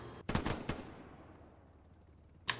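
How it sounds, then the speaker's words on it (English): An honor guard fires a rifle salute volley at a Memorial Day event in the Hell Let Loose video game: a ragged burst of several close shots, then quiet, then one more sharp report near the end. "Honor Guard, present arms. Ready. Aim. Fire."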